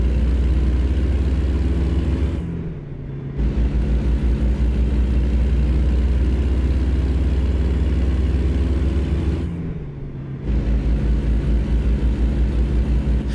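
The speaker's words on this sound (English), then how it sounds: "I do like listening to the truck just accelerate here in ATS." A truck engine in American Truck Simulator accelerates with a loud, steady low drone that drops briefly twice during gear changes before climbing again, and no voices are heard.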